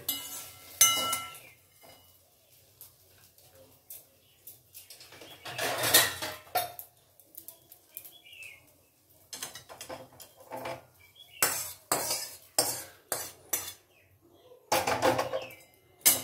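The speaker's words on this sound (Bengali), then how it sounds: "দিয়ে এবারে বেগুনটা এর মধ্যে তুলে নিচ্ছি" Fried eggplant being lifted from a pan with a metal utensil, heat already off, gives sharp scraping clinks and clatters in irregular bursts separated by quiet gaps.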